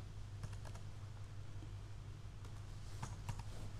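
Numbers being typed quickly on a computer keyboard while entering data into an Excel spreadsheet: scattered soft clicks in small bursts over a steady low electrical hum, with no talking.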